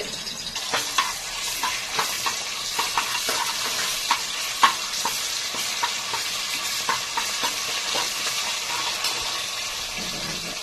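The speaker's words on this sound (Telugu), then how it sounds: "కాగిన నూనెలో అల్లం వెల్లుల్లి పేస్ట్ వేసుకోవాలి" Ginger garlic paste fries in hot oil inside a pressure cooker, a constant close crackling sizzle punctuated by regular stirring scrapes, with no voices.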